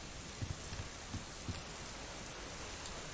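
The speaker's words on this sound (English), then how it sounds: "that's just raindrops, right? It's just rain." Steady rain falls in the survival game Subsistence, a dense even hiss of drops with a few faint low thumps early on, no voices.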